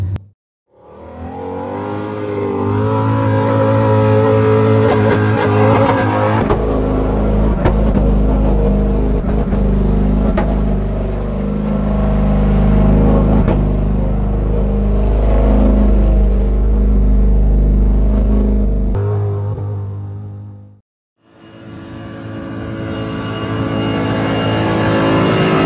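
Car engines rev hard during group car tests, loud and close with sustained high-revving roars, dropping out briefly before another engine starts up again.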